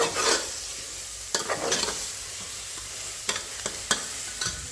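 Chutney masala for kolhapuri kat vada roasts in a pan, stirred with scraping spoon strokes in irregular bursts over a continuous low sizzle. No one speaks.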